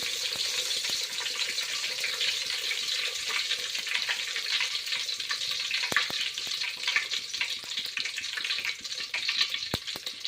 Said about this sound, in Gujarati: જીરું એડ કરીશું કડી પત્તા એડ કરીશું